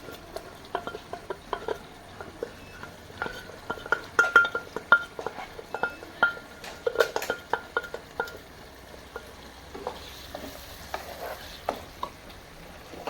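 Cooked beef with turmeric being stirred in a pot for beef dum biriyani, giving a steady run of scraping, clinking spoon-on-metal stirs with a light sizzle underneath, moderately close and without talk.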